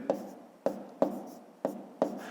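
Pen strokes on paper as a number is written down during a fifth-grade maths exercise: five quick scratching strokes at a regular pace, close and soft, with no speech.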